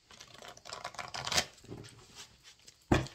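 Oracle cards are riffled and shuffled in quick papery bursts, with a sharper slap of a card near the end, close and quiet.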